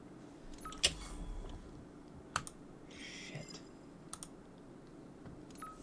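Sparse, crisp key clicks from an RK61 mechanical keyboard, a few isolated presses and short pairs spread over several seconds against a quiet room background.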